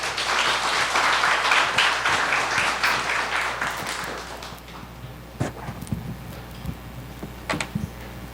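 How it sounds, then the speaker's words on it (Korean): Church congregation applauds to welcome a visiting professor to a lecture, dense clapping for about four seconds that fades into scattered claps and light thumps. "이 시간에 우리 교수님 나오실 때 큰 박수로 환영해 주시면 감사하겠습니다"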